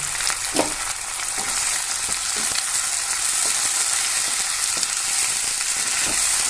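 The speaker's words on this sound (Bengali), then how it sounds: "আমরা এটাকে একটু ভেজে নেব খুব বেশি ভাজবো না হালকা" Mutton lightly frying in a pan with chopped tomato, a steady close sizzle running throughout with a few soft stirring scrapes, no talk.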